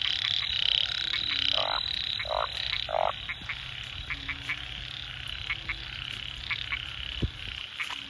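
Frogs calling from water on the night of the year's first rain, with repeated croaks and chirps, one close and loud near the start, over a steady chorus of insects and distant frogs, with no voices.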